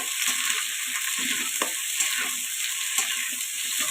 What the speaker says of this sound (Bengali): এইভাবে কাঁচা টমেটোটা ভেজে নিচ্ছি।